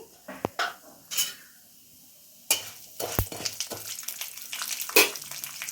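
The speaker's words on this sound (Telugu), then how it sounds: "ఆవాలు వేగగానే మనం మినప్పప్పు వేసుకుందామండి." Mustard seeds and urad dal fry in hot oil, crackling and popping in scattered bursts that grow into a steady sizzle with stirring clatter close by.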